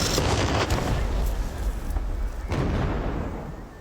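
A blast tearing apart a scaled-down wooden factory building set among sand dunes, a loud broad rumbling explosion that rolls on with debris crackle and slowly fades.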